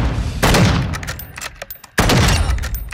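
Gunfire in a shooter video game's hotel defense match, bursts of rapid shots with loud blasts in two clusters separated by a brief gap, close and sharp, no talking.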